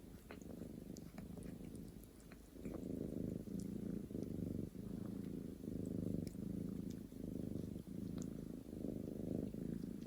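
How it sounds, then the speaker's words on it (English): A damp cat purrs steadily up close, a soft rhythmic rumbling with each breath, quiet and continuous with no other sounds. "I mean, she is purring."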